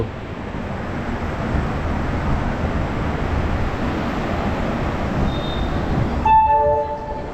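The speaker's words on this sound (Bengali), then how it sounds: "সাঁতরাগাছি স্টেশন থেকে আমাদের ট্রেন ছেড়ে দিল।" Loud steady rumble of the Shalimar–Puri Superfast Express departing Santragachi station along the rails, ending in a few clear tonal horn notes; no talking.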